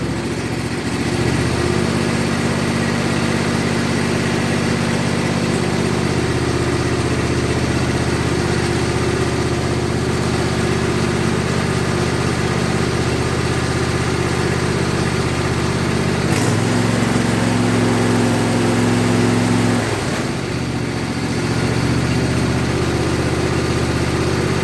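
A riding lawn mower engine, freshly serviced for fall, runs steadily and loudly close by with a constant droning hum that shifts pitch slightly twice, with no talking.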